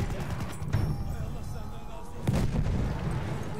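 Mortar fire in Battlefield 1 on a Gallipoli multiplayer map, a low rumbling boom under steady battlefield noise, with a second heavier thud near the end and people talking over it.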